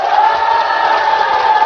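A studio audience cheers and shouts at the opening of a Buddhist monk's talk show, a dense, steady roar of many voices that stays loud and sustained with no pauses for the whole stretch.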